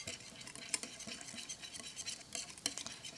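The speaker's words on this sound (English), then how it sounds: "Now we're just going to whisk this" A cheese mixture is whisked in a bowl: a steady, busy scraping and light metallic clatter continues throughout at moderate, close volume, with no talking.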